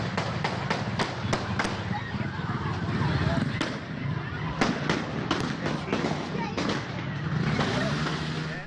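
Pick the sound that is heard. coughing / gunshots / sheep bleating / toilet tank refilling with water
gunshots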